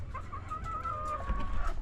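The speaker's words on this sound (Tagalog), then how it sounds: "mga third batch at fourth batch na mga manok ko" Chickens in a backyard coop give soft, steady clucking and murmuring, moderately close, with faint background noise and no talk.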